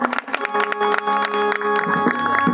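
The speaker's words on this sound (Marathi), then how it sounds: "सर्वांनी या मित्रमंडळासाठी जोरदार टाळ्या वाजवा" Audience applause at a live Marathi question-and-answer double-bari performance, a short burst of clapping mixed with crowd noise and a raised voice over it.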